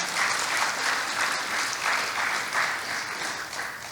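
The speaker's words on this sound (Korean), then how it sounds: "저희들이 끝까지 잘할 수 있도록 격려의 박수 부탁드립니다" A congregation at a Won Buddhist Sunday service claps in encouragement, with dense, steady applause filling the hall throughout and holding an even level from start to finish.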